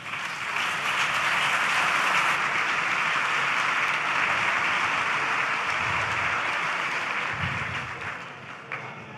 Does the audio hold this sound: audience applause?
yes